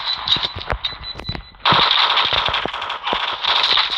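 Rapid gunfire from a Call of Duty Mobile battle royale match, playing the Poltergeist class: loud close bursts of automatic shots with brief pauses, steady and unbroken, with no talk over it.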